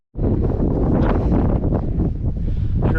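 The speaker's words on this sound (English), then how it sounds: "Sure is windy, huh?" Strong wind roars across the microphone on a mountain trail in the Wichita Mountains, a loud, close, continuous buffeting that starts abruptly and holds steady with gusty surges, no voices.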